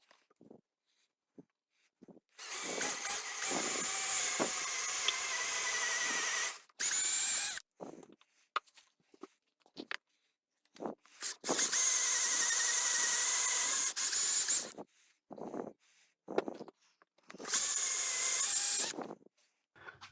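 Long electric drill bit boring through wood while building a homemade clock mainspring winder for loop-end springs; three sustained whining bursts of drilling with short pauses and small knocks between, close and fairly loud, no talking.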